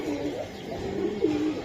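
A Giribaz racing pigeon coos in low, throaty rolling phrases, close and fairly soft, with a couple of rising warbles and no voices.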